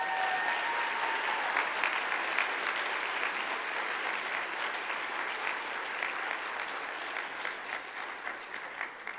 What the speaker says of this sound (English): Round of applause for Sandeep.